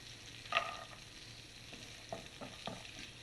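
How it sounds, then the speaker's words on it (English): Chopped garlic sizzles in melted butter in a pan, giving a faint, steady hiss with a few light scraping stirs. "Once the butter is melted we are going to add chopped garlic."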